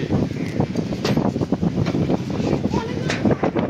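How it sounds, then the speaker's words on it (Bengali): Strong wind gusting on an empty sea beach at Henry Island, Bakkhali, with waves breaking and sand blowing; a steady, loud roar of wind buffeting the microphone fills the clip from start to end. "হাওয়া দিচ্ছে হেভি"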